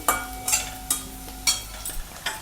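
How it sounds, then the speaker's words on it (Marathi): Finely chopped onion sautéed in a pan, a spatula scraping and stirring in about six regular strokes over a soft continuous sizzle, close and alone with no voices. "कांदा थोडा परतवून घेते मी"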